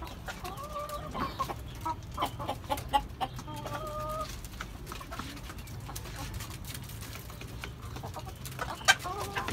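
Fayoumi and Pakistani hens cluck in short bursts at a moderate distance, with scattered tapping and soft rustling between the calls.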